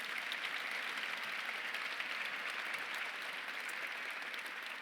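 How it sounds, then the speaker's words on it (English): Audience at an awards breakfast honoring women in transportation clapping steadily, a dense, even burst of applause filling the room without pause. "please clap"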